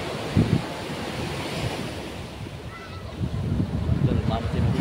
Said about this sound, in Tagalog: sa tabing dagat ngayon.